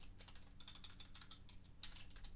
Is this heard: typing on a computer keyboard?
yes